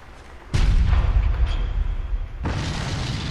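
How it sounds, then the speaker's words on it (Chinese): A cannon blast from the video game Bloodborne slams in loud and close, a heavy boom followed by a rumbling roar that dies down, then a second burst of explosive noise near the end. "这是什么？ 大炮。"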